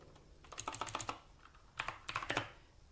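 Keys clatter on a computer keyboard as a command is typed into a Linux terminal during an Arch Linux install, in two quick bursts of close, crisp keystrokes separated by a short pause, with no talking.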